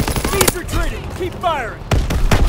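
Gunfire in Call of Duty: WWII war mode: sharp bursts of shots near the start and a heavier volley at the end, with voices shouting over the fighting.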